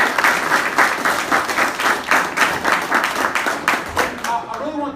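A large audience claps and applauds for students at a real estate exchange event in Newark, NJ, with dense, steady clapping throughout and a few voices rising near the end.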